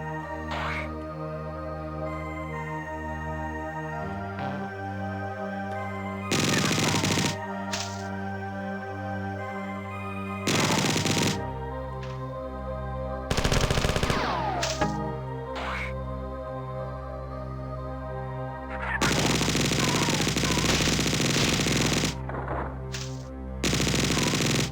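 Chain gun fire in the 1994 video game Marathon: several loud, sharp rapid bursts of varying length break out over a steady tonal game soundtrack, with gaps of music between them.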